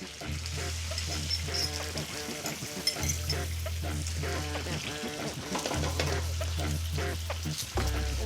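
Beaten egg omelette fries in a pan, a soft steady sizzle with clinking utensils over a low background hum, fairly quiet and close.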